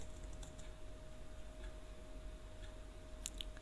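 Faint, quick keystrokes as a name is typed on a computer keyboard, a few soft clicks in quick succession over a steady electrical hum and low room noise.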